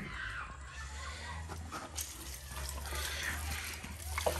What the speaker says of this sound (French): on a le robinet